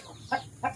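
Backyard chickens at a provincial garden give two short, clear clucks about a third of a second apart, close by and otherwise quiet.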